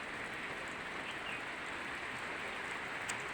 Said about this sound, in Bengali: এই তো রহমতের বৃষ্টি